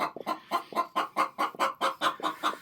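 A brooding hen clucks in a steady, repeated rhythm of short calls while sitting on hatching eggs, close and fairly loud, with no other sounds over it.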